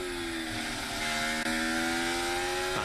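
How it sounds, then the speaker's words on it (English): Ferrari Formula 1 car on a qualifying lap at the 2024 Qatar Grand Prix, a loud, steady high-revving engine whine held close throughout with slowly rising pitch. "That's the sound of the Ferrari of Charles Leclerc with 5 minutes to go."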